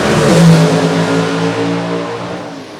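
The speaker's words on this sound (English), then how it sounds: "This is an awesomely wicked fast race car." A gasser drag race car at a Southeast Gassers event at Shadyside Dragway tears down the strip, its loud engine roaring with strong rising harmonics that ease off slightly as it pulls away.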